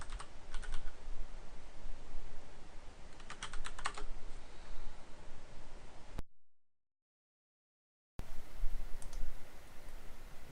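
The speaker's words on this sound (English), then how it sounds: "all we need to do is type in the address of the page we want to go to." A web address is typed on a computer keyboard in quick bursts of close, crisp key clicks, broken by a short silent gap midway, with no talking.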